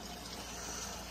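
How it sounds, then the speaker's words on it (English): Water drains out of a steam heating boiler in a brief, even, quiet rush with no voices. "So we're going to drain the boiler."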